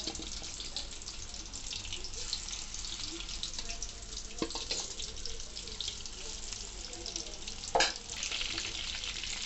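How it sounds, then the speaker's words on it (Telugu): Chicken pakoda frying in oil over a low flame gives a steady, even sizzle, with a brief clatter near the end and no voices. "లోపల సాఫ్ట్గా ఉండాలంటే మనం సిమ్లో పెట్టుకొని వేయించుకోవాలి ఈ చికెన్ పకోడీ అలా"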